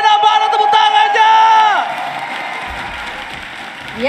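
A large arena crowd at a professional Mobile Legends esports match in Indonesia cheers and applauds loudly, with shrill tones and whoops that fade after about two seconds into softer murmuring.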